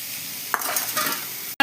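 Flattened rice frying in a pan as a utensil stirs it, giving a steady hiss with scraping strokes and a sharp clink at the end, close and loud with no voices.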